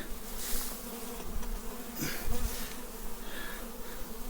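Steady droning buzz of many honeybees and drones around a hive entrance, continuous and fairly close, with louder passes swelling as individual insects fly near.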